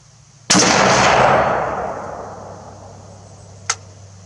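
A single sharp CETME LV/S rifle shot cracks out at a 300-meter range, loud and close, followed by a long decaying echo rolling across the open ground and a faint distant impact near the end.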